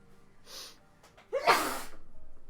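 A single sneeze, with a sharp intake of breath before a loud, bursting exhale, close by and otherwise quiet.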